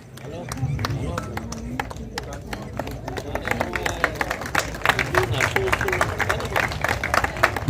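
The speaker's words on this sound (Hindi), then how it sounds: "जोरदार तालियां।" Audience applause at an award ceremony for a music society's golden jubilee celebration, a dense steady clapping from a large crowd that builds and grows sharper toward the end, with voices mixed in.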